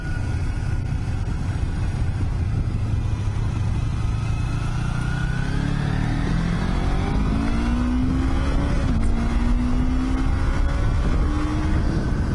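A Kawasaki Ninja motorcycle accelerates hard along a street, its engine note climbing steadily through a gear and then rising again, loud and close over constant wind rush.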